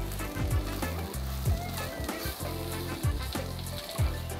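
Mixed vegetables fry in a pan with Cajun seasoning, giving a steady sizzle with several brief stirring scrapes spaced through the clip, close and moderately loud.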